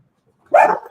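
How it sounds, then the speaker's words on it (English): A single dog barks once, sharp and fairly loud, in an otherwise quiet room. "Oh yeah, the dogs are barking."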